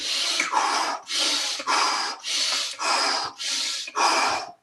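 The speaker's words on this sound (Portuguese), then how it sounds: "É uma respiração rápida e profunda. É uma polipneia" A person demonstrates polypnea, rapid deep breathing: about eight loud, close, forceful breaths in quick regular succession, each a rushing airy puff with no talking.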